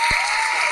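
An audience at a Tamil comedy and music stage show claps to welcome a singer, a brief, even burst of clapping that sounds fairly close and loud, with one low thump near the start.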